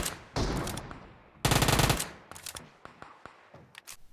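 Bursts of Uzi fire in PUBG Mobile come as two loud rapid automatic volleys, followed by scattered single cracks and short distant shots, with no talking.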